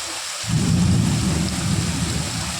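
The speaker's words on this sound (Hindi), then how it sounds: "इतनी तेज़ बारिश हो रही है, कुछ कहने की नहीं।" Heavy rain pours down in a dense, steady roar with a low rumble beneath, starting abruptly and continuing loud throughout.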